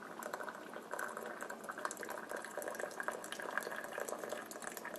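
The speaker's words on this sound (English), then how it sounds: "hot water will pour out into your cup" Near-boiling water streams steadily from a Cuisinart coffee center's hot water dispenser into a cup, a continuous bubbly splashing pour at close range with no talk.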